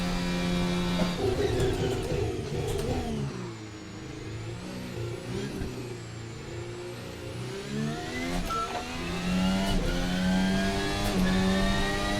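Simulated VRC Formula Alpha 2024 open-wheel race car engine in Assetto Corsa, a loud high-pitched scream climbing through upshifts, dipping briefly mid-run as revs drop, then rising hard again to a sustained near wail, with no talking.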